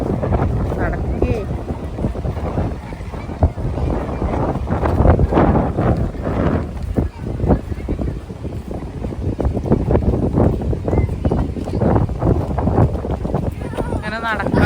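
Wind buffets the microphone on a beach during a walk, making a continuous loud rumbling roar with gusty swells and rustling throughout.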